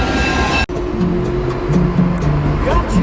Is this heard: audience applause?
no